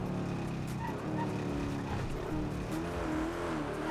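A car engine drones steadily in a video game, the driving sound holding constant with a shifting pitch and faint tire noise, loud and close.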